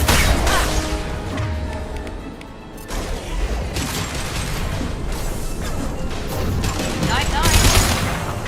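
Heavy impact shot gunfire and explosions in the Mass Effect video game, loud and continuous with chaotic blasts and crashes, while voices talk throughout.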